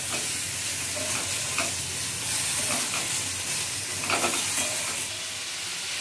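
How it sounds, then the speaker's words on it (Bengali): Potato and ridge gourd fry in a pan while being stirred, a dense continuous sizzle with scraping, rhythmic spatula strokes close by, no talking. "এবার সব উপকরণগুলো ভালোভাবে নেড়ে মিশিয়ে দিতে হবে।"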